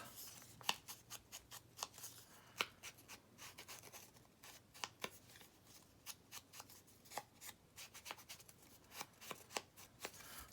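Scissors snip through a 12x12 sheet of paper in a craft setting, giving a quiet run of quick, irregular crisp cuts and rustles close by.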